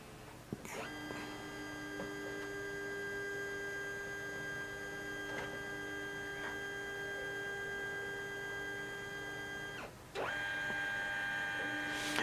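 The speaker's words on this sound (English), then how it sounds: "now I go to the brother printer app and now press the scan button" A steady mechanical hum with tonal whine from a Brother MFC-J491DW printer scanning a page runs for about ten seconds, then briefly shifts pitch and resumes, like a scanner carriage sweeping a page.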